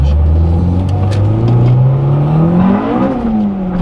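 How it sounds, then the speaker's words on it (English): A Honda Integra Type R DC2R with a VTEC engine revs hard and loud, its pitch climbing steadily before easing near the end, heard close up with no talk. "enjoy that synonymous roar of that VTEC engine"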